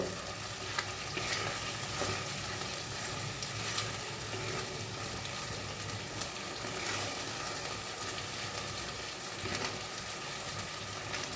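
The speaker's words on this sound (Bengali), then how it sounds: "এবার আমি এগুলো ভালো করে কষিয়ে নেবো অনবরত নাড়তে হবে না হলে নিচে লেগে যেতে পারে" Ground green peas and spices stir-fried in a wok, giving a steady, close sizzle with continual scraping and stirring throughout and no voices.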